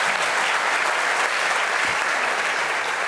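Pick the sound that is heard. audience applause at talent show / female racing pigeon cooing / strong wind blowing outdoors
audience applause at talent show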